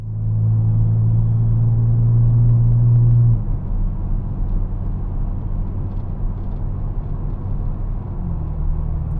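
A fifth-generation Camaro heading toward a curve, a loud low engine hum that drops sharply in pitch after a few seconds and then settles into a steady rumble with road noise.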